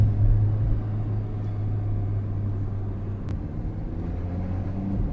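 An Alpine A110R idles in race mode with a steady, loud low-pitched engine rumble and a constant drone, heard close without any talk.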